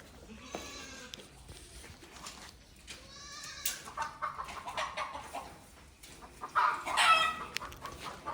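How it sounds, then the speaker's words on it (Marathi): Chickens cluck and call at a moderate distance on a stall-fed goat farm, scattered squawks and chatter, with bleating goats mixed into the farmyard noise. "चला मित्रांनो कोंबड्या बाहेर गेले त्यांना मला"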